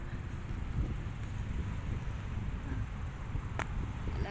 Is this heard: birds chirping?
no